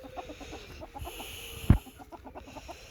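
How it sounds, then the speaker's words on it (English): Several hens cluck in short repeated bursts nearby, with one sudden loud thump partway through. "that we don't trip over any chickens"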